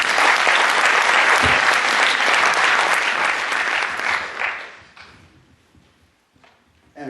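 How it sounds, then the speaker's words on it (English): Loud, dense applause from a live show audience fills the first four seconds, then tapers off, leaving scattered claps and a quiet room. "Give them both a big round of applause"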